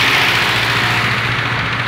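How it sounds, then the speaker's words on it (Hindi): A tractor engine runs in a rural village during sugarcane harvest season, a loud, close, steady low drone that holds without any break. "ट्रैक्टर आ गए"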